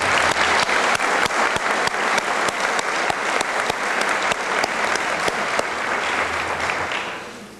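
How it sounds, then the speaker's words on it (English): Sustained audience applause at a high school academic awards ceremony, dense and fairly loud, with distinct sharp claps punctuating the steady roar before it fades out at the end. "I'd like to give you a round of applause."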